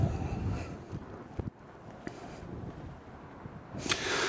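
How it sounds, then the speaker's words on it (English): Wind buffeting the microphone outdoors near an airport, a low rumbling gusty roar that swells and fades, with a few bumps and a strong gust near the end. "it is very breezy out here"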